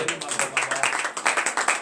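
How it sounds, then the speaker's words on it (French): Congregation clapping in acclamation during a morning prayer service, a lively run of quick, rhythmic claps that surges in repeated bursts, loud and close, with no voices on top. "Donnez l'acclamation à l'Éternel."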